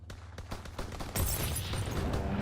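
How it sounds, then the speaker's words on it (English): Rapid gunfire bursts crackle during a strafing run in the World War II shooter Call of Duty: WW2, followed by a heavier, louder blast and rumbling explosion noise that fills the rest of the short moment. "Fighter pilot inbound. Strafing the target."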